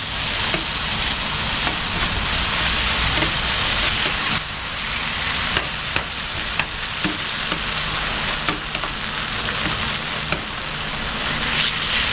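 Chicken and beef fajitas sizzle loudly on an outdoor grill, a steady close hiss and crackle with scattered pops throughout, no one talking.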